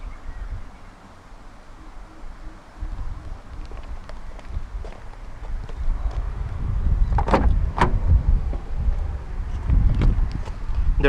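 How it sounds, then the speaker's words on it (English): Rear doors of a 2013 Chevrolet Orlando 1.8 LT swing open wide, giving a few sharp clunks and latch clicks over a low rumbling background, close by and without talk. "The rear doors open quite wide and an almost 90-degree angle"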